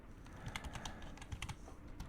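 Quiet typing on a computer keyboard: a quick, uneven run of light keystroke clicks, close and soft, with no voices.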